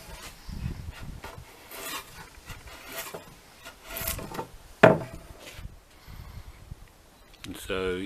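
A timber framer's slick pares a wood surface for a large scarf joint or tenon side, giving repeated soft rasping strokes with short pauses, close and quiet, with speech between strokes.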